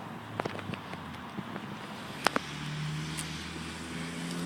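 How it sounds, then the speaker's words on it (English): Highway traffic beside a house passes as a faint, steady background roar, with a few scattered clicks and knocks nearby and no talking. "I'm sorry if you can hear cars in the background."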